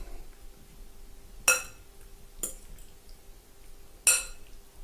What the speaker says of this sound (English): I'm just going to lightly dress this, just with enough to coat these beets. And I'm going to toss them.